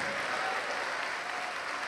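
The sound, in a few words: congregation applause in church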